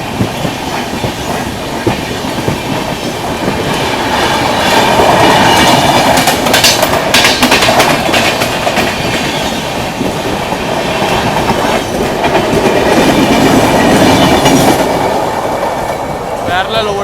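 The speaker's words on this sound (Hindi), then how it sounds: "पैरेलल चल रहा है अभी अपनी ट्रेन का मुंबई हावड़ा मेल के साथ" Passenger train running in parallel with the Mumbai Howrah Mail near Diva Junction, a loud steady rumble and clatter of rolling carriages with rhythmic wheel clicks, swelling in the middle and holding strong throughout.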